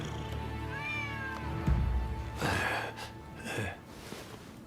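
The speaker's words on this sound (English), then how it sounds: "Who'd have thought a stray cat would wander in?" Stray cat meowing in a stealth action game, a few drawn-out wavering mews followed by short breathy hisses or puffs, close and clear with no voices.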